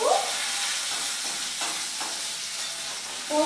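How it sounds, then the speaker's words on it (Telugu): Tempering spice seeds frying in hot oil for a Telugu vegetable dish, a continuous close sizzle with bright hiss and small crackles, louder at the start and end. "పోపు బాగా ఫ్రై అవ్వాలి."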